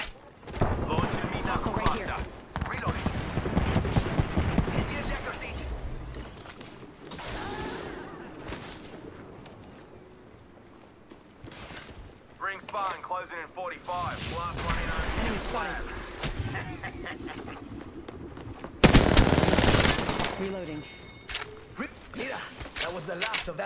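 Gunfire and explosions from a battle in the shooter Apex Legends, bursts of shots and blasts coming in clusters, with a loud sharp burst near the end, mixed with in-game voice callouts.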